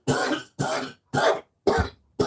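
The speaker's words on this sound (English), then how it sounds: "Now I'm coughing because of the Windex." A person coughs five times in a row, each burst harsh and close, separated by brief silent pauses.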